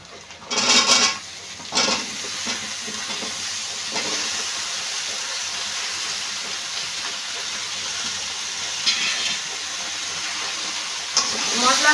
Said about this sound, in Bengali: সঙ্গে সবজিগুলো বেশ ভালো করে কষিয়ে নিতে হবে